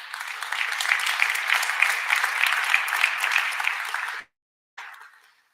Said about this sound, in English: Here, give it a round of applause.